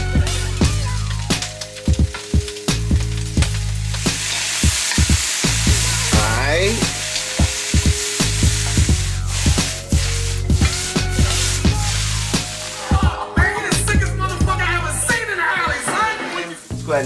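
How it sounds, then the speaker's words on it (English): Vegetables stir-frying for fried rice in a hot wok, a loud steady sizzle with repeated scraping and tossing strokes of a utensil, continuous throughout. "Let's go ahead and add the rest of our veggies to the wok and get ready to add the rice."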